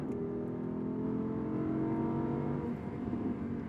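Audi R8 accelerating hard along the Le Mans Maison Blanche circuit, a loud, steady engine roar with harmonic whine rising through the gears, heard close and continuous with no talk.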